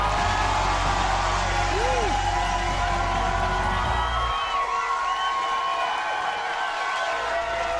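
A crowd at a live campaign gathering in a church in Orlando, Florida cheers and whoops continuously in a broad, lively roar, with a low hum fading out midway.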